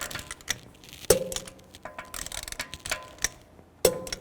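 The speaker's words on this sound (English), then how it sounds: "Now I'm just going to torque these lug bolts to 110 foot-pounds." Lug bolts on a 2003-10 BMW X3 front wheel being torqued to spec in a star pattern: a few sharp metallic clicks from the torque wrench stand out among quieter ratcheting and handling noises, close by.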